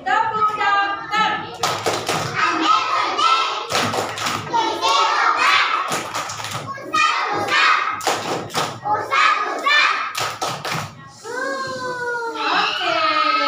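Children play the rhythmic 'tepuk dokter' clapping game in a classroom, sharp claps landing in a steady beat beneath their loud chanting voices, with a brief pause before the chant resumes.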